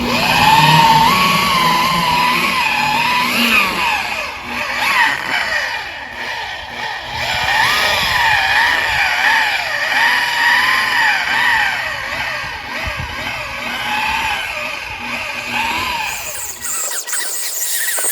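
A DCK 7-inch variable speed car polisher spreads rubbing compound across a scratch, its motor whining loud and close, with wavering squeals rising and falling as the speed and pressure shift, ending in a sudden drop.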